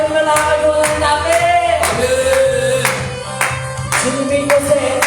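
A church congregation claps during Friday worship, with loud, rhythmic, regularly spaced claps over sustained music throughout.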